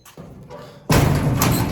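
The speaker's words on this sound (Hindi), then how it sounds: "तो कर देता हूँ दरवाजा का बंद" A house door swings shut with a single loud thud, followed by a rush of outdoor ambience and fan noise.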